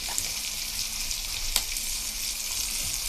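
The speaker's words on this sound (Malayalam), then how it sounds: "തക്കാളി ഏതാണ്ടൊക്കെ വഴന്ന് വന്നു." Tomatoes sizzle and fry in a pan for a tomato curry, a soft steady crackling hiss with a few brief stirring clicks, fairly quiet throughout.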